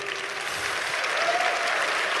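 Audience applause at a lecture, a dense, even roar of many hands clapping at once, steady and fairly loud throughout, with no voices standing out.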